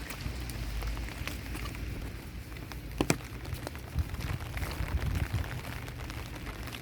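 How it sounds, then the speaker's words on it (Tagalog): Steady rain falling in Milan, Italy, a continuous broadband hiss of drops on surfaces with a few sharper drips and splashes near the middle, no voices present. "Araw-araw ulan."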